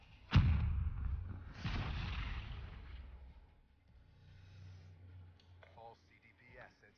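Grenade explosion in the video game Black Ops 3, a sharp boom near the start followed by a second rumbling blast, with game sounds and a person talking quietly afterward.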